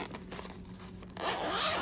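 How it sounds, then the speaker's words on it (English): A pencil case zipper is pulled open, with soft scraping at first followed by a long, continuous zipping rasp that grows louder and stays close; no voices are heard. "Oops, wrong zipper."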